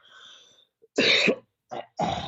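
Two or three short, rough coughs or throat-clearing bursts in quick succession, close and fairly loud, following a faint murmur of background sound.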